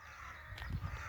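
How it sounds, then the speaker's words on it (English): Crows caw outdoors during a walk, a brief harsh call or two rising over a steady background hiss at moderate distance. "nice to see the crows are joining in"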